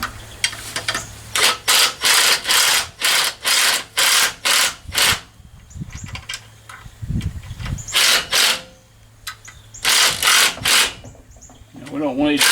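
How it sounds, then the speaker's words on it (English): A power tool running a bolt in on the water pump and power steering bracket of a 1985 Chevy K10 truck, with repeated short whirring bursts in a stop-start rhythm, loud and close, with someone talking between them. "So we'll go ahead and run this bolt in a little bit."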